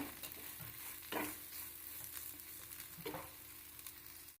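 Fried cluster beans being stirred in a pan, with low crackling sizzle and two brief scraping stirs near the middle and the end, quiet and close, no talking.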